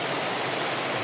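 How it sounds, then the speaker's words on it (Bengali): Heavy rain pours down in a dense, loud, continuous hiss close by, steady and unbroken with no voices. "দেখেন ভাই এত বৃষ্টি আজকে ডুবে যাবে।"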